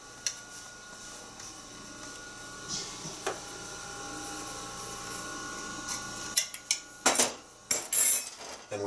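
A spoon clinks and scrapes in a pot as strawberry-rhubarb jam ingredients are stirred, quiet at first, then with a cluster of louder knocks and scrapes near the end.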